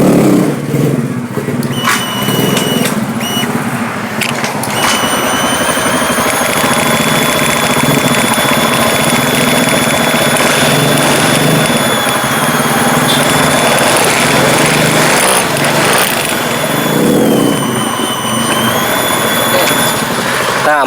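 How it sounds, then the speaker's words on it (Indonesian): A Honda Beat motorcycle with a dead electrical fault fires up after a repair and settles into a steady, loud idle. High whining tones ride over the continuous engine hum for about twenty seconds. "Nah, motor malah langsung nyala ya teman-teman."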